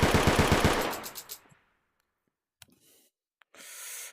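Rapid burst of Tec-9 gunfire at a VRChat shooting range, loud close shots in quick rhythm for about a second and a half, then tailing off into silence broken by a few faint clicks and handling noises.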